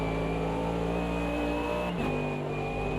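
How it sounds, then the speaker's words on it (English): Race car engine in the Automobilista 2 sim racing game, a steady loud drone that dips briefly near the end as a downshift hits before the note resumes, no voices over it. "I never expected that snap as I downshifted coming over the hill"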